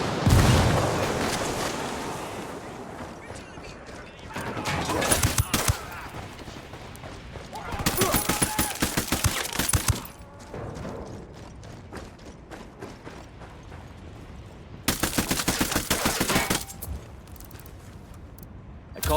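Bursts of gunfire in Ghost Recon Wildlands, loud clusters of rapid shots in several volleys over a busy mix of game noise and background voices.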